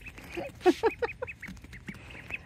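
Ducklings give a quick run of high, chirpy quacks, a bunched flurry followed by scattered single peeps, near and moderately loud.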